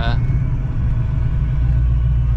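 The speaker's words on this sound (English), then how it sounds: "let me rev this thing up for them" Foxbody Mustang with a Coyote engine swap revving up, a dense low rumble holding steady and loud close by for about two seconds, with a person talking over it.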